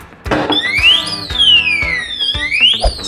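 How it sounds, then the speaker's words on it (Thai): A digital safe's tamper alarm wails loudly, sweeping up and down in pitch continuously, with a couple of knocks or bumps against the safe underneath. "ตู้นี้มีระบบเตือนภัยหากมีการงั ดแงะกระแทกตู้จะส่งสัญญาณเตือนดังขึ้นมาเลย"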